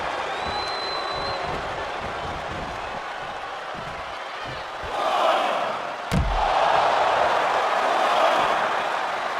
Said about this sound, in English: The crowd is on the edge of their seats as the match intensifies